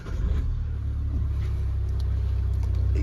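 A Mahindra XUV 700 SUV, very dirty after a landslide on the road to Pangong Lake near Leh, is cranked and revved, giving a steady, loud, close engine rumble with no talking.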